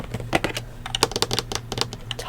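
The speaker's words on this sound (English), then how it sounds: "So first I've got this gigantic keyboard. Okay, it is Microsoft" Typing on a large Microsoft gaming keyboard, with rapid, irregular key clicks and taps that are close and crisp, coming in quick bursts with brief pauses between them.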